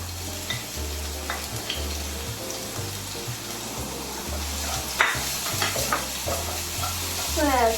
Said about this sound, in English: I am going to saute my garlic, ginger, shallots, and my spring onion stock